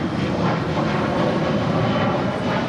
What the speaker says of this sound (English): About to cross over 25 right, coming in from JFK, that is American Airlines Flight 331 and an A321.